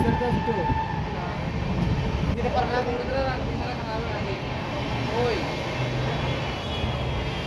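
A train heading toward Amritsar clatters along the rails with a constant loud rumble heard from inside a carriage, and voices talk over the noise throughout.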